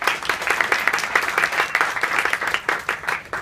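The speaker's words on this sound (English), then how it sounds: "Round of applause." Audience applause at a TypeThursday lettering event in NYC, a dense, steady round of clapping from a sizeable crowd that carries evenly through the whole stretch without any voices over it.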